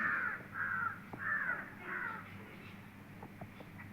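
A crow caws several times in a row, fairly distant and faint, in the morning, followed by softer scattered chirps in the background.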